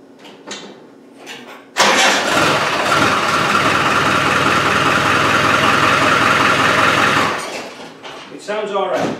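An engine turns over and fires at once, then runs loud and steady for about five seconds with no exhaust or air intake fitted, before cutting back to quieter surroundings with brief talk at the start and end.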